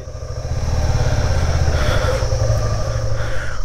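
A motorcycle being parked at a hill homestay near Darjeeling: a close, loud and steady low engine rumble that idles evenly throughout, with no talk.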